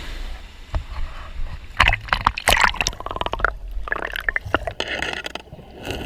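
Someone diving into cold river water while hunting for gold, heard close up as choppy splashes, bubbling and watery sloshing with muffled knocks, continuous and fairly loud over several seconds, with no talking.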